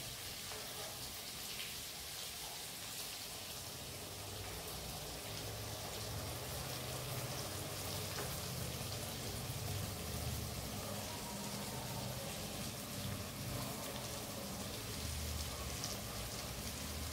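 Water poured into a pan of fried cauliflower and potato being cooked with poppy seed paste, giving a steady, continuous watery hiss and sizzle close by for the whole stretch, with no pauses and no talk.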